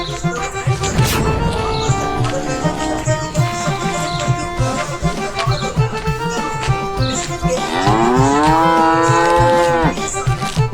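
Buffaloes tied up in a stable moo loudly and close by, with long, drawn-out calls repeating and overlapping throughout.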